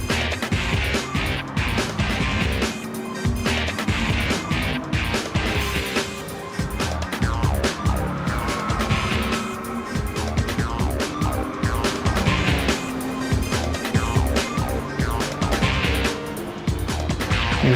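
Race cars howl around the Road Atlanta circuit on the final lap of a Challenge Series race, a dense, continuous roar of layered engines with rising and falling revs and passing cars, loud and steady throughout.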